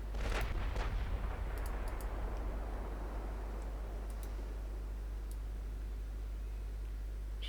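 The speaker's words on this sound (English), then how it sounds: "Lord Clyde opens fire first." Warship guns firing in Ultimate Admiral Dreadnoughts, a heavy distant cannon blast opening over a constant deep rumble, with faint clicks scattered across the fading tail.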